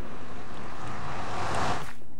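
Flowing water in Minecraft, a steady broadband wash that swells toward the end before cutting off abruptly, heard alone with no talk.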